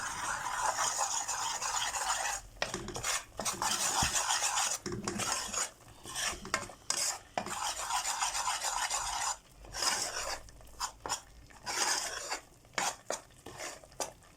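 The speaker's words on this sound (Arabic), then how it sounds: "ندي الدقيق بتاعنا يا جماعة كده تحميصة كده بالشكل ده" Flour being toasted in a pan for béchamel, stirred steadily, giving a continuous close scraping and rasping with brief pauses between strokes and no talk.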